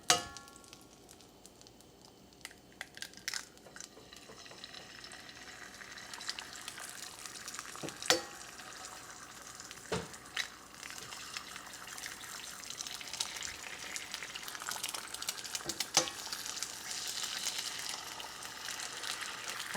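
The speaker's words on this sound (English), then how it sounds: "add it to my hot pan, and I'm going to crack in 3 eggs to make up 3 breakfast sandwiches" Three eggs cracked into butter in a hot pan, frying with a faint sizzle that builds and grows more crackly over time, broken by a few sharp knocks and clatters.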